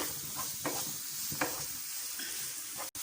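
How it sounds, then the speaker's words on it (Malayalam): Two onions sauté in a pan while being stirred while cooking filled squid with chicken, giving a steady close sizzle broken by several scraping stirs and one sharp knock near the end. "ഇനി നമുക്ക് ഇതിലേക്ക് 2 സവാള ഇട്ട് കൊടുക്കാം"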